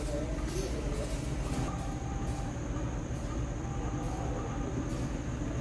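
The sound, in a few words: ballast freight train passing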